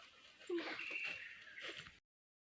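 A dog whimpers in a couple of short, high whines close by, with a brief yip near the start and quiet background voices around it.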